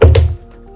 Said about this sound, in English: When you hear the click sound